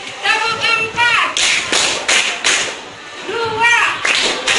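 Students in a classroom clap in short, counted bursts of sharp claps between a teacher's spoken instructions, with the voice clearly audible between the groups of claps.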